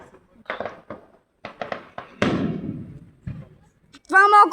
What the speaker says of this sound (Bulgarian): Това е малко по-грозна заря.